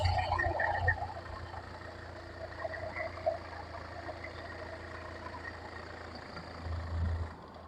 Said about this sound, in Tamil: டீசல் வண்டியோட இன்ஜின் சவுண்டு எப்படி இருக்குது அப்படின்றத இப்போ கேட்டுருவோம்